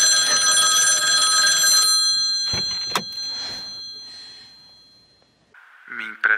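A telephone rings in a loud, bright trilling burst that cuts off abruptly, followed by a few sharp knocks and then a short ringtone-like electronic chirp near the end.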